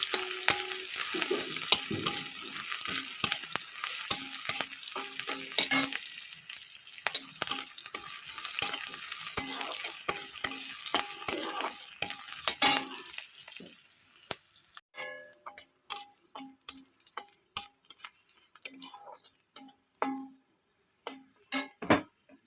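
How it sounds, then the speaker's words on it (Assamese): Onions fry in hot oil for a curry, with a dense, continuous sizzle that later thins into sparser crackles and sharp taps of a spoon stirring the pan. "তেল গৰম হোৱাৰ পিছতে মই পিঁয়াজখিনি দিম।"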